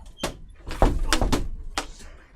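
A door at a game store bangs open with several sharp, loud thumps and knocks in quick succession, close by, with faint voices around it.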